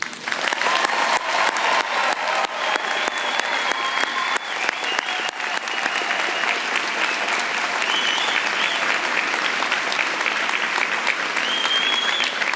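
An audience at Chico State's master's commencement breaks into sustained, even applause, many hands clapping steadily and loudly for the whole stretch without letting up.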